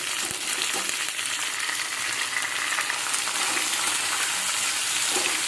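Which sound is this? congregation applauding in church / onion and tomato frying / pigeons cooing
onion and tomato frying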